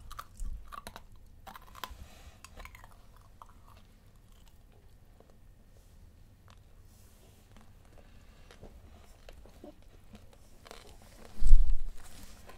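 Two people eat candied fruit, with faint, sparse bites and soft chewing clicks over a quiet room, then one louder crunch near the end.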